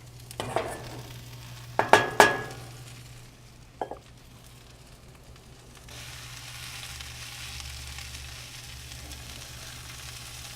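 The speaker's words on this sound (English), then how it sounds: "Our onions are sauteing." Onions sautéing in a pan set over an open wood fire, a steady low sizzle beneath a few sharp clanks of utensils and stirring early on, close and moderately loud.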